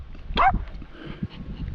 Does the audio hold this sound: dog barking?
yes